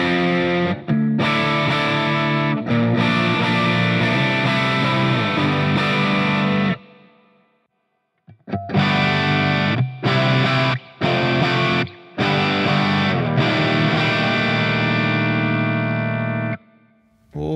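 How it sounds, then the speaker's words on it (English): Electric guitar played through a Hughes & Kettner Black Spirit 200 floor amp, switching between cabinet tones: loud, sustained distorted chords and riffs with brief pauses and a near-silent gap midway. "Loads of different cab tones going on."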